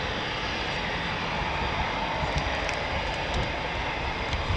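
Distant, steady jet roar of a Typhoon FGR4 or F-35B at an RAF station, a constant broadband rumble heard alone without talk.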